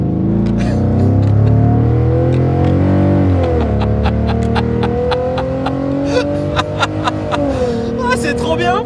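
A car engine running on only one cylinder is revved under throttle, a loud, rough drone that rises and falls in pitch, close by, with people talking over it.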